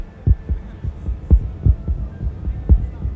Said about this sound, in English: now I take maybe a heartbreak sound, a heartbeat sound